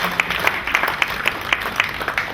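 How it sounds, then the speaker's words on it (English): An audience at a company year-end party in Vietnam claps in a steady, rhythmic beat, evenly spaced claps repeating in unison at close range under a light murmur of the room. "A huge applause"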